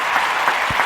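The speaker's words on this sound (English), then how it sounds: "Round of applause for that" A small group applauds in a brief, dense burst of clapping at close range, loud and steady for under a second.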